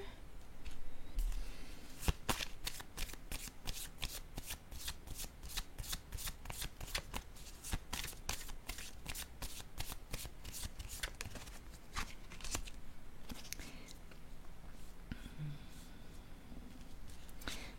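Tarot cards being shuffled, a long run of rapid, crisp riffling flicks in close succession, close up and steady for most of the stretch, with a few softer card sounds toward the end.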